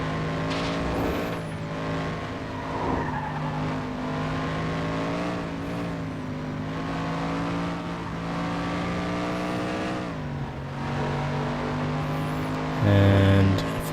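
Race cars in the video game FlatOut 2, in a street-class twilight race, roar steadily with droning engine whine and revving, a brief shift in pitch midway, and a sharp buzzing burst near the end.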